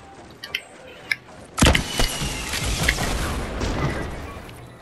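A bazooka shot in Fortnite: a few small clicks and taps lead into a sudden loud boom, followed by a rough, crackling rumble that carries on under scattered game noise.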